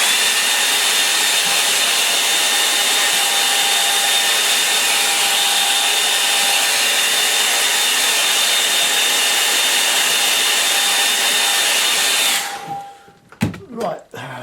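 Hair dryer blowing over a watercolour landscape painting, a loud steady whirring drone with a fixed whine lasting about twelve seconds, then cutting off, followed by a few knocks and handling thumps.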